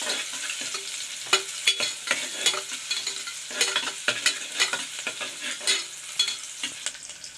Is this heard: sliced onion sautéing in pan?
yes